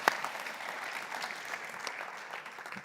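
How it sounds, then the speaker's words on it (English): A short burst of audience applause at a business conference after an onstage interview with a tech CEO, a sustained wash of clapping heard at a moderate distance with no talk over it. "Let's give him a round of applause."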